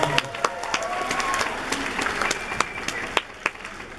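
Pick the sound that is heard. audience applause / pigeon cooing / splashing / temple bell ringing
audience applause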